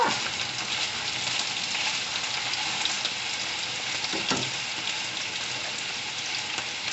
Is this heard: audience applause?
no